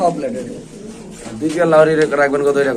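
Lahori pigeons cooing at a pigeon farm, soft throaty coos heard close by beneath someone talking over them.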